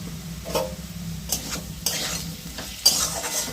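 Ridge gourd and potatoes frying in a pan with turmeric and salt, with a steady soft sizzle and several bursts of stirring and scraping.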